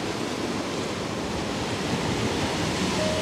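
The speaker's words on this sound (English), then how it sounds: "let's just wait for one more nice wave to come in from the bottom left" Ocean surf at a landscape shoot, a steady broad roar of waves washing in across the whole stretch, dense and continuous with a faint wind-like hiss and no clear break between swells.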